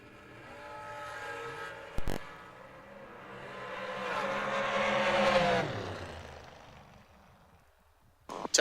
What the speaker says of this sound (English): S&W chassis dragster over there